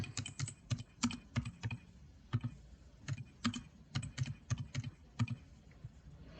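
Someone types on a computer keyboard, entering data into a statistics table, with bursts of close, crisp key clicks in an uneven rhythm and short pauses between groups of keystrokes, alone and without speech.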